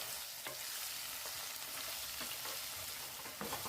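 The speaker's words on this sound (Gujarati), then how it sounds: "આપણે કંટોલાને આવી રીતે 1 મિનિટ સુધી તેલમાં ફેરવશું" Spiny gourd (kantola) pieces fry in oil with turmeric, garlic chutney, red chilli powder and salt, a steady close sizzle broken by soft scraping stirs, with no talking.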